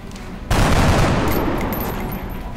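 Gunfire from a soldier's weapon in the video game XCOM 2: a sudden loud burst of shooting after a brief quiet moment, then a sustained roaring rumble that slowly fades.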